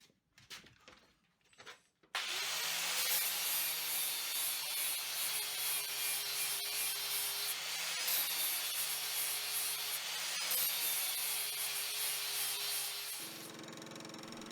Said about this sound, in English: These aren't pretty welds, but the grinder will fix that right up.